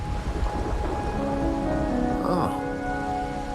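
Steady rain pours throughout a game scene in Wuthering Waves, a dense continuous hiss with no breaks, and a faint musical tone rises briefly partway through.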